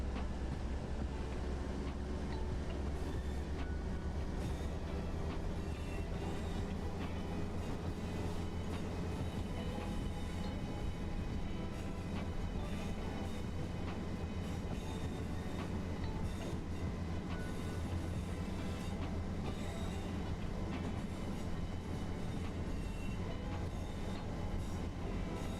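Simulated train running in Train Sim World 4 on a direct service to Preston: a steady, loud rumble of wheels and engine, with faint rail screech and clatter, continuous throughout with no talk.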